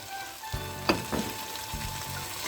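Borlotti beans being stirred into grated tomato sauce in a hot pan, a steady sizzle with a few scraping clacks of the spoon, close and alone.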